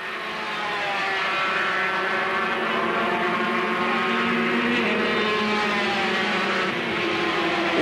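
Grand Prix motorcycles, a Honda and a Yamaha among them, race at Rio de Janeiro, their engines a loud, continuous high-revving drone held steady for several seconds.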